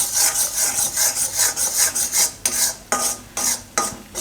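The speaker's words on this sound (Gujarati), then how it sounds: "થોડીક વાર આ સૂજીને શેકી લેવું ભેગું" Semolina roasting in a pan for a Gujarati suji besan halwa, stirred with a steady rhythmic scraping and rubbing, close and fairly loud, with a few sharper strokes toward the end and no talking.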